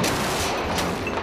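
Soldiers shoot on a firing range, and a dense, continuous burst of gunfire fills the whole moment, loud and close, with overlapping shots.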